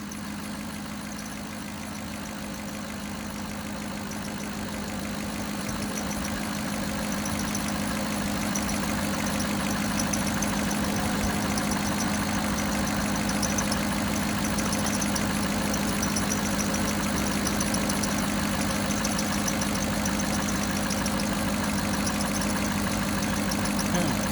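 A 2007 Cadillac DTS engine idles steadily with a newly installed power steering pump, a constant close hum with a faint whine layered on top, holding at an even level throughout.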